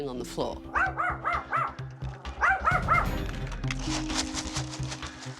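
Several dogs bark and yip in quick bursts, close by, mixed with whimpering and a busy, noisy background.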